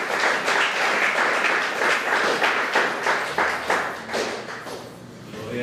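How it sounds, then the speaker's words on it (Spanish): Church congregation giving loud applause to the Lord during a sermon, sustained clapping from many hands that gradually thins and softens toward the end. "Dale un fuerte aplauso al Señor"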